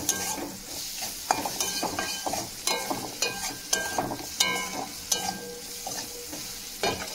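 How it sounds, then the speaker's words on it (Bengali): A packet spice mixture being stirred in a pan, with constant scraping and tapping of a spoon under a light sizzle, close and fairly busy, no talking. "খুব ভালো করে মিশিয়ে নেবো এর সঙ্গে"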